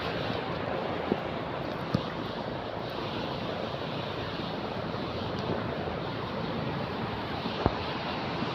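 Sea waves near moored boats, a steady, broad wash of surf and wind that stays even throughout, with a few faint knocks and no talk.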